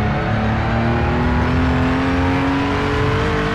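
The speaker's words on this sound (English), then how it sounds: "You can hear the front tires skidding" A racing car engine drones steadily with a rising pitch, with front tire squeal and skidding blended into the continuous roar; a Honda NSX GT3 in the Project Cars 2 video game, qualifying at Daytona.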